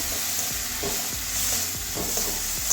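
Kashmiri chilies and slit green chilies fry in a pan while the cook makes a vegetable curry, producing a steady close sizzle with soft stirring scrapes and clinks throughout.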